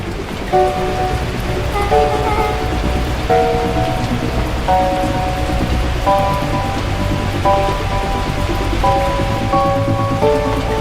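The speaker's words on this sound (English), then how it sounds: "At that moment, the heavens opened up, unleashing torrential rain." Torrential rain pours in a dense, unbroken hiss that stays loud and constant from start to finish, with a soft melodic game tune of repeating notes layered on top and no talk.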